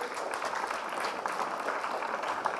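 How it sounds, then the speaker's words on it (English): An audience at a CreativeMornings talk in New York gives a round of applause. The steady crowd clapping is moderately loud and continuous for a couple of seconds, with no voices over it. "let's give a round of applause for Paul"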